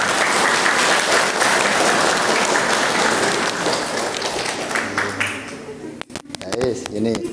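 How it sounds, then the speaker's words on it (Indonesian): Audience applause at an Islamic study session with female santri, a full burst of clapping that thins out after about five seconds, leaving scattered claps as a voice begins speaking. "Tepuk tangan, tepuk tangan."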